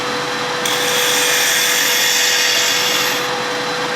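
A wood lathe spins at about 2200 speed while a gouge rides across the bottom of a spinning top, producing a loud, continuous hissing cut over a steady motor whine, starting and easing off within a few seconds.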